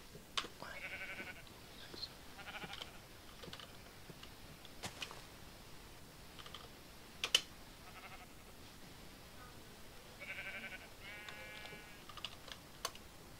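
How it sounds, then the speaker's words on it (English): Sporadic, quiet clicks of typing on a computer keyboard, with a few sharper taps, mixed with faint Minecraft sheep bleats in the background. "I'll type them in chat."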